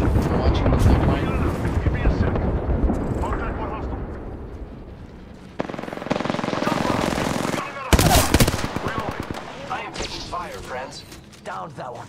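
Sustained automatic gunfire in a first-person shooter firefight, with dense bursts and sharp volleys that surge louder near the middle and again past two-thirds through, under continuous excited talk from players.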